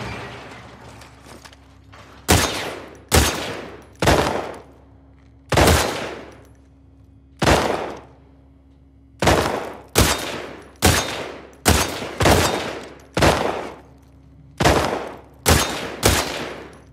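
Sharp gunshots in a shooting contest in the video game The Last of Us Part II fire in irregular bursts, some spaced apart and others in quick succession, loud and close, over a low steady hum.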